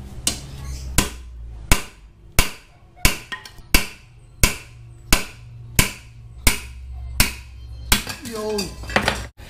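Tough rubber motorcycle chain guard being cut during a swing arm extension job, heard as a steady series of about a dozen loud, sharp chopping strikes spaced roughly evenly, close by, with a low background hum.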